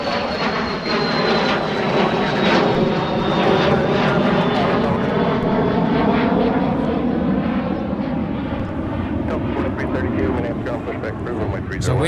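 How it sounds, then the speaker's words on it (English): Delta 312 Heavy, a jet bound for Honolulu, makes its takeoff roll at Minneapolis–Saint Paul airport with a loud, sustained engine roar throughout, while a voice talks over it. "we are currently waiting on the departure of Delta 312 Heavy to Honolulu, Hawaii, and there they go. They are now on the roll"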